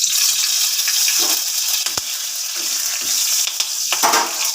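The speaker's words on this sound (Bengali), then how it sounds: "কড়াইতে আমার বেশি আছে এর ভেতরে আমি দিয়ে দিচ্ছি দুটো তেজপাতা" Two fresh green bay leaves from a rooftop garden dropped into hot oil in a wok, giving a steady loud sizzle and frying crackle throughout, with a few brief clinks.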